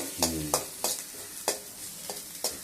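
Hot oil sizzles steadily with mustard seeds and finely chopped onion while a spoon scrapes and stirs the pan in regular strokes, close and moderately loud.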